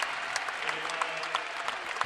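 Warm applause from a basketball arena crowd as five departing Bowling Green women's players leave the court late in a game against South Carolina, a steady wash of clapping lasting a couple of seconds.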